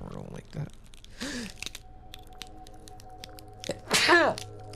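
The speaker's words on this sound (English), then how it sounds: "Oh, bro made me sneeze." A single sharp sneeze bursts out near the end, loud and close, after quieter breathy vocal sounds and a steady low background hum.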